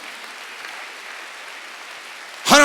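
Church congregation clapping during a Sunday worship service, a soft, diffuse patter of hands that runs evenly until a loud voice cuts in at the very end.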